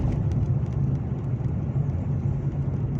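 Steady, close engine and road rumble from a car driving along a winding mountain forest road with the windows open, a continuous low drone with wind wash and no voices.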